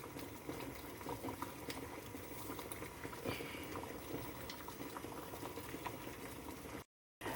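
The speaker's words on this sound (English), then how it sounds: "I'm boiling some eggs" Eggs boil in a pot of water on the stove, a steady bubbling rumble and hiss heard close up and alone, with a brief cut to silence near the end.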